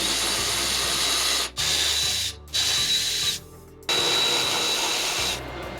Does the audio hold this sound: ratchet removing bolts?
yes